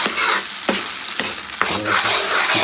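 Arhar dal tipped into a pan of spices frying in hot oil, giving a loud steady sizzle with a few sharp splashing hits and stirring scrapes, no voices.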